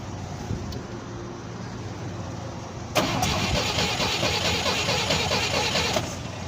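A 1952 Willys Jeep engine, unused for years, cranks over and then catches about halfway through, bursting into a loud, rough running roar that holds for several seconds before easing slightly.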